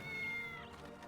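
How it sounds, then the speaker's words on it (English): A cat meows in the video game Dragon Quest VIII, a single drawn-out meow heard clearly over layered game music. "Just the little kitty goes, meow."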